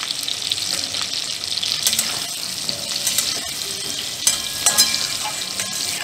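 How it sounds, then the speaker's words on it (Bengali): Potatoes with a pinch of turmeric frying in oil in a kadai on high heat, a loud continuous crackling sizzle with bright spitting pops and a few stirring clinks. "আলুগুলোকে জোর আঁচে 5 মিনিট ভেজে নেব।"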